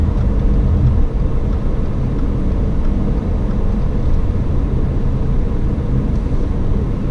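A 2018 Subaru Outback on the move, heard as a continuous low road and engine rumble with steady tire noise and no talking.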